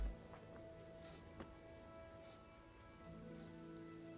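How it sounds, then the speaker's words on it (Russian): Rain falling in the medieval role-playing game Kingdom Come: Deliverance makes a faint, steady patter that hisses evenly throughout, with a low background hum. "Дождь начал"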